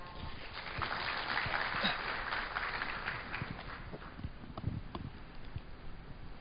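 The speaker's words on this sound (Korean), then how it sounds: "뜨거운 박수로 맞아주시면 감사하겠습니다." Audience applause at a malware-analysis security talk event welcomes a founder to the stage, a dense patter of many hands that stays fairly steady, then thins into scattered claps near the end.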